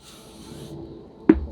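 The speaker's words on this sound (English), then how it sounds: "I'm going to spray this with some WD-40." WD-40 sprays from an aerosol can into a pot mold as release for a concrete pot: a short, steady hiss lasting under a second, then a brief quiet rustle and a sharp knock at the end.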